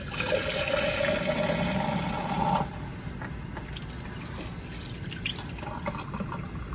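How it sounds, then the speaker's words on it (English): Water runs steadily into a larger glass jar holding seeds for rinsing, a close, even gush for about two and a half seconds, then quieter trickling and faint drips. "and then fill it with water."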